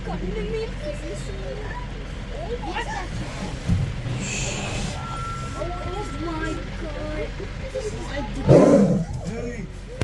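A tiger at Bannerghatta Nature Camp in Bengaluru gives low, rumbling roars in a couple of short bursts, partly under people talking excitedly nearby.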